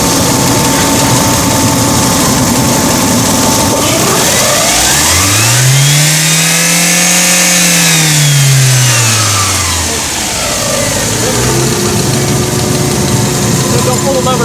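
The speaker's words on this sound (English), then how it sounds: "we're going to rev up the engine" Car engine revved during an EGR flow test for a P0401 fault, rising from idle to a high sustained rev and falling back to idle, loud and close with some mechanical vibration.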